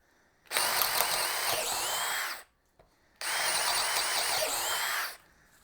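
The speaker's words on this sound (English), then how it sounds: "Here we go with our 1/2-inch twist bit" DeWalt 12-volt hammer drill boring with a 1/2-inch twist bit: two loud, sustained whining bursts of about two seconds each, separated by a short pause, close by with no talking.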